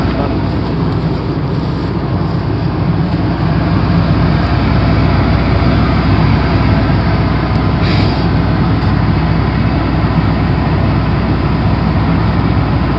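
A farm vehicle harvesting silage drives into a field, producing a loud, steady, dense mechanical roar and rattle heard from up close inside the cab.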